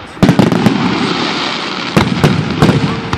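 Canada Day fireworks bursting in the night sky, loud sharp bangs in quick clusters near the start and again toward the end over a steady crackling rumble, with faint voices in the background.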